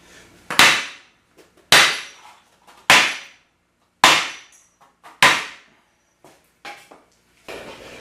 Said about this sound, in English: Another couple minutes of hammering.